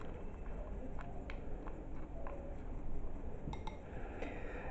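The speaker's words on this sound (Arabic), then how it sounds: "نقوم بمزج المكونات الجافة مع بعضها البعض جيدا" Dry ingredients for a coffee body scrub, including starch, are stirred together in a bowl, with a spoon giving faint, irregular clinks and light scraping against the bowl sides over a low background hiss.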